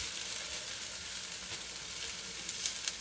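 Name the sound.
cauliflower rice sizzling as it is added to frying pan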